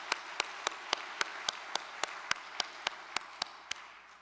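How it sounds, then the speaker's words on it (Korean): Single pair of hands clapping in slow, even rhythm, about fifteen sharp claps spaced evenly over a quiet church hall background, close and distinct, fading slightly at the end. "큰 박수로 문실출 생도의 결의를 격려해 주시기 바랍니다"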